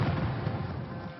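Ceremonial cannon fire at the Queen Mother's funeral procession in London, heard as a dull, distant, rumbling boom that fills the whole short moment.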